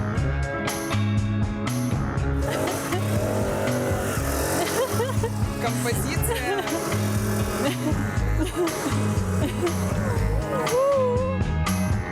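A loud motorcycle engine roars and revs continuously, pitch climbing and falling with squealing accents, mixed with music and busy background noise throughout.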